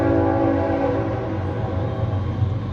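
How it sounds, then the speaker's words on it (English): A train horn sounds a steady, sustained salute from nearby at a Marine Corps officer candidate graduation ceremony, its layered tones holding loud and unbroken throughout. "Another salute from the train here."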